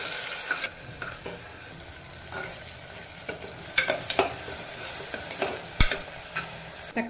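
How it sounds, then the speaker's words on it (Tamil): Chopped tomato and curry leaves sautéing in a pan, a soft background sizzle broken by repeated sharp scraping and stirring strokes of a spatula, close with no voices. "தக்காளியும் கொலையை வதக்கிக்கோங்க."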